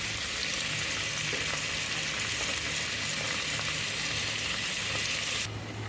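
Tomato frying in a pan for mushroom biryani gives a steady, dense sizzle that stays even and loud throughout, then thins abruptly near the end, with no talking.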